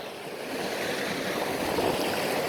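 Water runs steadily along a channel dug by machine through farm fields, a continuous broadband rush with no talking.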